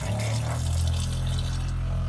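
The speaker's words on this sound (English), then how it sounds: "At that point, you can turn on the faucet, just like that." Water runs steadily from a campervan sink faucet fed by an onboard pump, a close, continuous rushing stream over a low mechanical hum with no talking.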